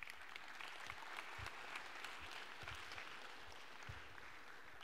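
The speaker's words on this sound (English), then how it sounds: "Obligatory round of applause." Students in a university computer science lecture hall clap in a steady, dense round of applause that lasts throughout, fairly soft and even in level.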